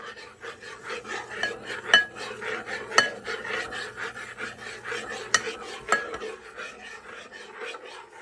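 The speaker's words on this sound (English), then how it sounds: "Now stir the gelatin mixture for a few minutes or until the gelatin mixture gets nice and liquid and fluid again." A utensil stirs a gelatin mixture for a raspberry peach yogurt mousse cake, giving a steady soft scraping rasp with several sharp metallic clinks against the container, close and fairly quiet.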